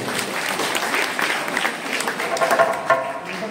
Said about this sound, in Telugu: అంత సేవాపరుడిగా ఒక గట్టి చప్పట్లండి.